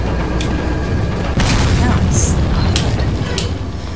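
A grenade explodes in the video game Resident Evil 4, a loud booming blast mixed with sharp cracks over dense, noisy game sound.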